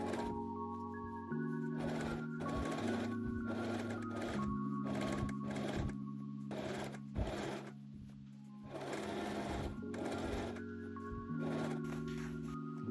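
A sewing machine runs in bursts to stitch the crotch seams of a pair of pants, its fast mechanical whir starting and stopping several times with short pauses between runs, close and clear with no talking.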